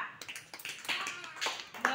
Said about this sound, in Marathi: आरुषीसाठी टाळ्या.